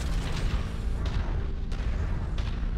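Light magnetic cannon shots in a MechWarrior game, a few heavy booming reports spaced about a second apart over a constant low mechanical rumble.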